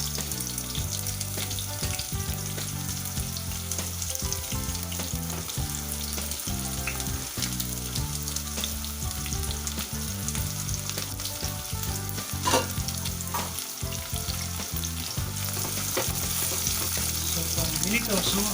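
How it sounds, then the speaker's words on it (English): Sliced onions frying in hot oil on high flame for chicken biryani, a loud continuous sizzle with frequent stirring clatter and scrapes close by. "Into oil, and then I'm going to add this sliced onion to it."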